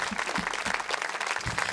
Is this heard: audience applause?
yes